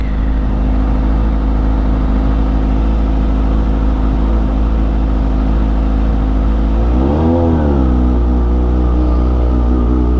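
A Kawasaki ZH2 motorcycle engine runs close and loud at a steady, growling idle, then gives a short rev that rises and falls back before settling to idle again.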